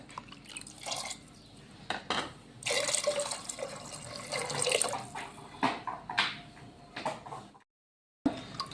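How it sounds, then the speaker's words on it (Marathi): Water poured into a pressure cooker holding ragda ingredients and spices, with a close splashing, trickling stream that surges and dips in bursts, then stops briefly before starting again. "आता यामध्ये शिजण्यासाठी पाणी टाकायचं आपल्याला"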